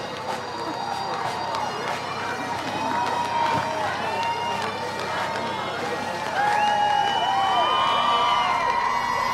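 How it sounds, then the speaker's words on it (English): A zoo crowd cheers and shouts for arriving pandas, with children's excited voices, whoops and overlapping chatter rising and falling, growing louder toward the end. "Back at the zoo, the crowds are going wild about pandas."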